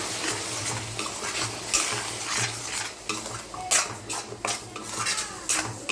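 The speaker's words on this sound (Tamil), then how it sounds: "தக்காளி அரைச்சி வச்சுருந்ததை ஊற்றிக்கலாம் சேர்த்து நல்லா மிக்ஸ் பண்ணி எடுத்துக்கலாம்" Ground tomato paste is poured into a sizzling egg gravy and stirred in, with a quiet frying hiss under repeated scraping and clinking of a metal spoon against the pan, close up and without talk.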